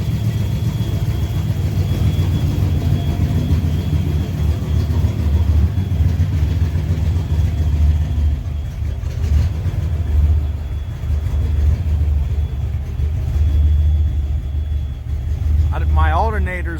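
A turbocharged junkyard Foxbody Mustang engine idles with a steady, deep, throbbing rumble that stays constant for the whole stretch, and a voice comes in briefly at the end.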